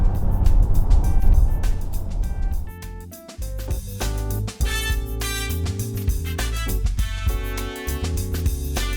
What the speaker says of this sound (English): Oh, this engine is terrible. It makes terrible sounds